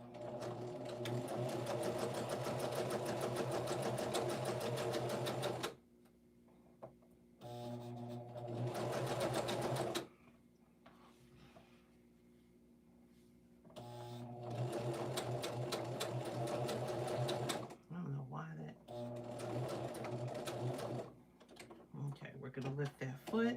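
Sewing machine stitching fabric in close, loud bursts of rapid needle clatter, pausing now and then for quieter stretches with light handling sounds between runs.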